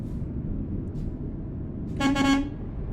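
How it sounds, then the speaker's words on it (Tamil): A truck horn in Euro Truck Simulator 2 honks in a short double blast, loud and brassy, over a steady low engine rumble. "ஹார்ன் பார்த்தீங்களா? செம்மையா இருக்கு பாருங்க."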